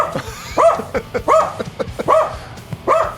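A dog named Shadow barks repeatedly, five or six sharp close barks in an uneven rhythm, loud and alone with no talking over them.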